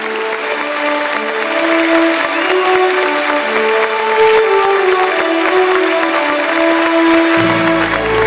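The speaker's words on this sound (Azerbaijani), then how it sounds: "Ramilə Məmmədova, alqışlarınızla səhnəyə dəvət edək" An audience applauds loudly as journalist and author Ramilə Məmmədova is welcomed onto the stage, a sustained wash of dense clapping with some cheering over stage music.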